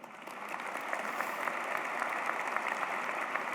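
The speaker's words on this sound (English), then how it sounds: "Take a second to give yourselves a round of applause." Graduation ceremony audience applauding in a large crowd, a dense sustained patter of many hands that builds in the first second and holds steady, without talk.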